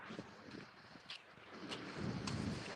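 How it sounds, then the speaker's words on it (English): Wind buffets a microphone outdoors, giving low, irregular rumbling gusts that swell and fade, growing stronger toward the end. "So windy"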